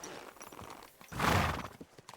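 A horse in Kingdom Come: Deliverance II gives a loud whinny at the center, framed by soft clip-clopping hooves before and after.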